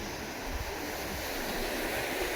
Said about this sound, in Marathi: तो स्पॉट आहे ना तिकडं जाम लाट अशी एकदम भयानक मारते